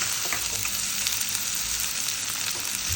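Chopped cabbage and potato hit hot oil in a pan with asafoetida, setting off a loud, even sizzle that stays close and constant throughout with no talking.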